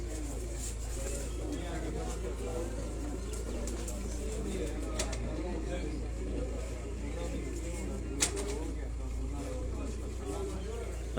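A soft, continuous burble of cooing rises from a flock of Superman pigeons kept at a Sialkot loft. Someone talks over it, a low hum runs underneath and a few sharp clicks break in.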